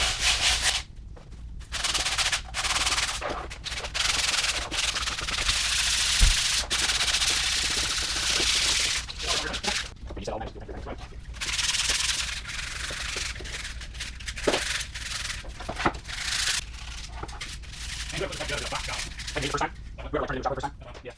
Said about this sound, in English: So I've been sanding this fuel tank and Ike has been sanding this fender.